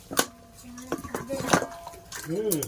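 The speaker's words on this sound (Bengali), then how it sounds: "এই যে বড় গামলা নিয়েছি মাংসগুলো দিয়ে দিই" Marinated meat goes into a large bowl for biryani, with scattered metallic clinks and clanks of the bowl and utensils at close range and a voice speaking briefly near the end.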